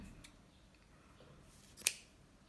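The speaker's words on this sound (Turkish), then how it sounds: "Makasla keselim." Scissors make a single crisp snip through combed cotton yarn while a crochet coaster is finished, a sharp close cut that stands alone against a quiet room.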